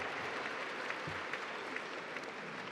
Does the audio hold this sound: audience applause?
yes